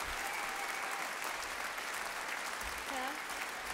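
Jazz award concert audience applauding a quartet, a steady sustained wash of clapping from a large hall crowd, with a few faint voices underneath.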